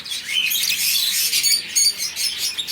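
Several small exotic cage birds chirp and twitter rapidly and continuously, close by, with high-pitched overlapping calls and no other sounds.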